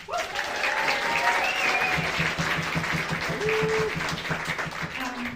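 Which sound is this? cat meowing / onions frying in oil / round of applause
round of applause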